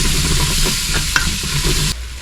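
Nettles rubbed with cornmeal and flour being stirred into softened fried onion in a pan, a steady close sizzle with scraping strokes of the spoon throughout.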